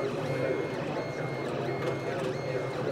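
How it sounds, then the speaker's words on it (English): A 3D food printer lays down ingredients from cartridges in successive layers, giving a steady close mechanical whir with faint stepping motor tones, running continuously without pause. "the 3D printer deposits it in layers"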